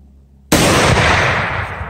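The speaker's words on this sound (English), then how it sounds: "So, same distance, three shots." An AR50 rifle fires FMJ rounds outdoors, a loud sharp blast bursting from quiet and leaving a long reverberant decay; only one report is clear.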